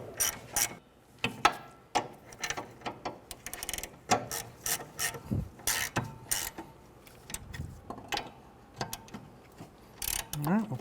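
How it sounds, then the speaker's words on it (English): A ratchet with a 17mm socket tightens bolts while replacing parking brake shoes on a 2007-2013 Acura MDX, giving repeated close, sharp clicking bursts in an irregular rhythm with short pauses between strokes. "with the 17mm socket, we'll go ahead and tighten those down"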